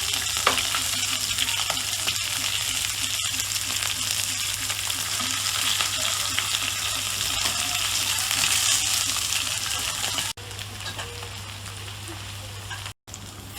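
Sardines with green pepper fry in a pan, giving a continuous crackling sizzle with a low steady hum beneath, close and fairly even for most of the stretch before briefly cutting out near the end.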